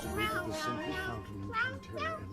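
A cat meows several times in quick succession, close and fairly loud, over a steady low background hum.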